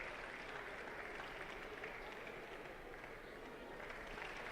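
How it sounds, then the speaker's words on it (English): A crowd applauds a result at a women's judo competition, a steady wash of clapping and cheering at a distance, fairly faint and unbroken throughout. "And the crowd applauding the result."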